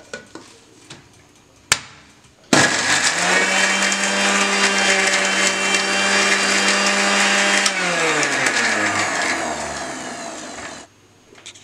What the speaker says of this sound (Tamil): இப்போ இந்த மூணு இன்க்ரீடியன்ஸையும் ஜாரில் போட்டு அரைக்க போகிறேன்.